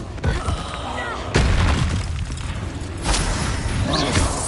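The Expulso explosion spell goes off in Hogwarts Legacy, a few heavy booming blasts and rumbling thuds layered over continuous game noise and a voice talking.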